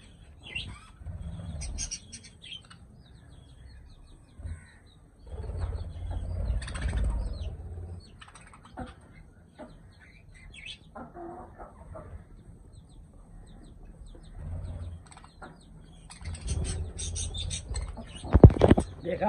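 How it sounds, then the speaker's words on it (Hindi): A pet parrot and other caged birds chirp and squawk in scattered bursts while eating, with rustling, wing flaps and pecking noises between quieter pauses and a sharp call near the end. "और एक तोता आ गया"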